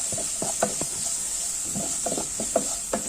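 Small onions and shallots sautéing in oil for a bitter gourd stir-fry, giving a quiet steady hissing sizzle with soft intermittent stirring clatters.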